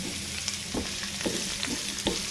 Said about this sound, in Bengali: এটাকে ভালো করে আমি লাল লাল করে ভেজে নিয়েছি